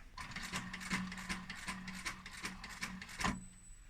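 A sewing machine top-stitches fabric for an upholstered sofa cushion, giving a close, steady, rhythmic mechanical clatter and whir that runs continuously and then stops just before the end.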